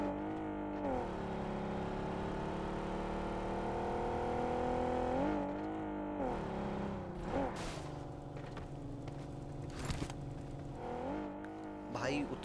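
Vehicle driving in the mobile battle royale game BGMI, a steady engine drone with shifting revs throughout, joined by brief clatters and bumps near the end, with speech layered over it.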